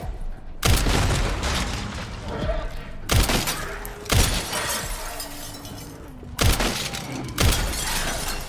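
Glass panels shattering in the Resident Evil Requiem video game: several loud, close crashes of breaking glass, each followed by tinkling debris, spread over the span with continuous game noise underneath.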